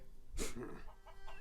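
Chickens cluck in the Shenmue 3 video game, a short burst of close clucking followed by softer calls, heard over a faint background hum.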